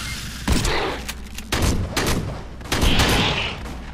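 Three heavy pump shotgun blasts boom out in the Aliens: Colonial Marines multiplayer game, spaced about a second apart, each with a broad crack and rolling tail over steady game background noise.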